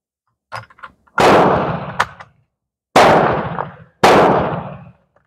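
Three loud, sharp M44 Romanian Mosin Nagant rifle shots, close by and spaced a second or two apart, each with a booming echo tail; nobody talks.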